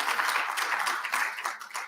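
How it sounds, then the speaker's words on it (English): An audience applauds steadily at a live event, many hands clapping in a dense, fairly loud burst that fades slightly at the end. "I think we'd like to give them all a round of applause"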